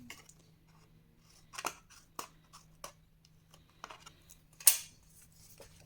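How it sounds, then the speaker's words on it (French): Scissors snip paper for a scrapbook album box, a handful of crisp close cuts spaced through a quiet room with a low steady hum underneath. "vous allez couper ici de chaque côté légèrement en biais"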